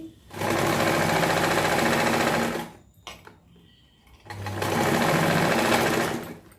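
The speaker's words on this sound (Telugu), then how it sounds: "ఇలా మడుచుకున్నాక పైనుంచి ఇలా స్టిచ్ వేసేయండి" An electric sewing machine stitches a blouse hem in two loud, steady runs of whirring, each a couple of seconds long. A brief quiet pause with small handling noises separates them, and nobody speaks.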